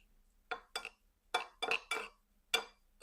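Spoon clinking against a bowl while tossing salad with grilled green onions, toasted pecans and mayonnaise, heard as a handful of sharp, separate taps and scrapes in a quiet kitchen.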